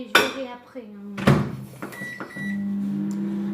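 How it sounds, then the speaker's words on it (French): A microwave oven is started with a couple of sharp clicks and clunks, then settles into a steady, loud humming drone, with a brief beep in between. "J'appuie 2 fois sur mon micro-ondes et je verrai après."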